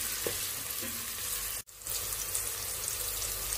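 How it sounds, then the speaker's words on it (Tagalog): Chopped onion sizzling steadily in a hot pan while being stirred for a pineapple chicken in coconut milk dish, a continuous dense hiss with a brief dip in the middle and faint scraping, close up. "We add the onion. Mix din natin siya until golden brown."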